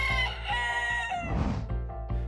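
A rooster crows once, a loud, close, drawn-out call.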